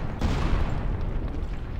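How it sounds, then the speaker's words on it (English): Gunfire in a crowded Battlefield Vietnam multiplayer match, a dense, continuous roar of shots and low rumbling with no clear separate bursts, loud and sustained throughout without any talking. "I can hear gunfire. It might be from underneath in the tunnels."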